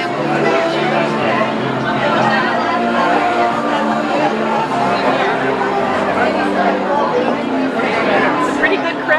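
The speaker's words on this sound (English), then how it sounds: "It's a pretty good crowd for a rainy day." Dense crowd chatter fills a room at a 50th anniversary gathering at Tibbett Towers on a rainy day, many overlapping voices at steady loudness with no pauses, close and busy.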